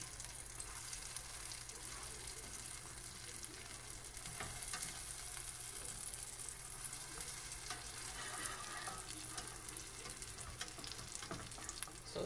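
A spinach omelette frying in a pan gives off a soft, steady sizzle with a few faint scrapes and taps, quiet and continuous, and no voices over it.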